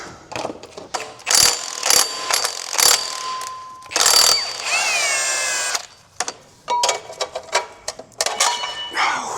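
Ratchet working flywheel bolts with a 19 socket on a Nissan S13 in a shop: repeated bursts of sharp clicking ratchet strokes, close and loud, separated by brief pauses, with one longer whirring spin in the middle.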